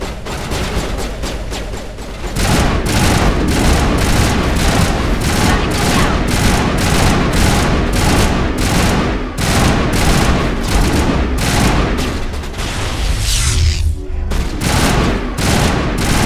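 Sustained, loud automatic gunfire rattles nonstop during a firefight in the video game Mass Effect, with dense rapid shots and a brief lull before the barrage resumes, under occasional voices.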